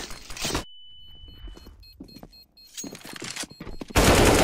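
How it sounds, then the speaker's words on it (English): Flashbang grenade thrown in a Counter-Strike-style shooter, heard as a sharp loud burst followed by a sustained high ringing tone, then scattered clicks and another loud burst near the end. "I'm throwing the flashbang."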